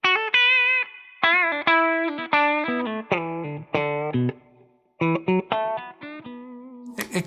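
PRS Charcoal Phoenix limited edition electric guitar on the treble humbucker with the tone switch engaged, played as a series of clean, ringing chords and notes in short bursts with brief pauses between.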